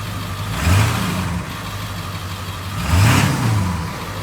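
A Ford 7.3 Powerstroke diesel truck on a PHP Hydra chip idles with a steady low rumble, then revs up twice, about two seconds apart, each blip rising and settling back, no talk.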